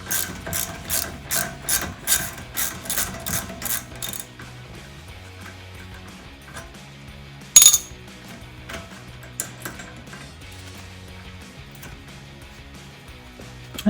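A ratchet clicks through about ten quick, close strokes while reinstalling rear brake caliper bolts on a 2015-2023 Mustang EcoBoost, followed by quieter tool handling and a sharp metallic clank.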